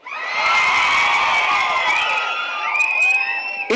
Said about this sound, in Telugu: వీడి కోసం ఫుల్ విసిల్స్ అండ్ క్లాప్స్